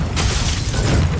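Bombarda explosion spell cast in Hogwarts Legacy, a dense continuous blast of rumbling, crackling energy filling the whole moment, loud and close with no talk over it.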